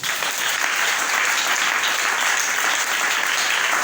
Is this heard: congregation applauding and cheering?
yes